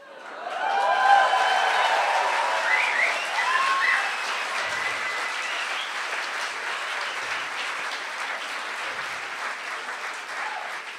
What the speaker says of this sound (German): Schön, dass ihr so lange klatscht